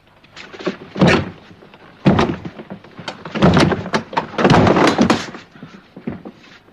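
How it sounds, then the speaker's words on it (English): A door is forced in a 1945 period drama: several heavy, loud thuds and slams land at irregular intervals, each blow ringing out with splintering rattle and no voices between them. "Can you break down the door?"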